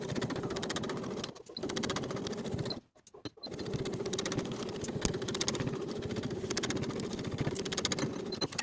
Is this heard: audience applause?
no